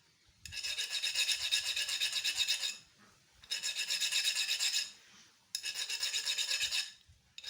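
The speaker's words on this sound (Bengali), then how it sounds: "তো তাই এটাকে ভালো করে ঘষে নিতে হবে।" A file rasps across a table fan armature part to smooth it, in three long strokes of a couple of seconds each with short pauses between, close and moderately loud.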